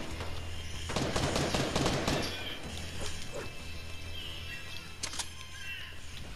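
Gunfire in a shooter video game, a dense burst of rapid cracking shots followed by scattered single reports and another short flurry over a low steady hum.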